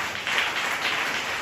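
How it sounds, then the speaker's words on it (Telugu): A church congregation claps loudly together, giving a brief burst of quick, dense hand claps with no voices. "గట్టిగా చప్పట్లు."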